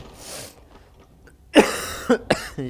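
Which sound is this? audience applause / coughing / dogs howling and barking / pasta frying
coughing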